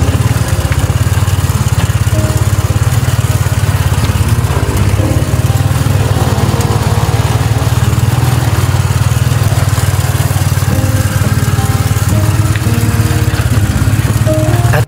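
A small motorcycle tricycle's engine drones steadily and loudly while it drives, a constant close rumble running unbroken from start to finish.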